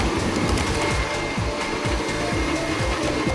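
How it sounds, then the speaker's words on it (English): A stand mixer with a paddle attachment creams butter and sugar, making a steady motor whir with a rhythmic low thumping as the paddle turns. It is close and continuous. "While I'm whipping the butter and sugar with my paddle attachment"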